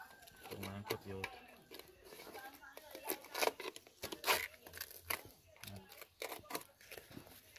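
Tape being cut away from an electric meter socket during a meter installation, with faint irregular snips, rips and crinkles coming in quick bursts, recorded quietly at close range.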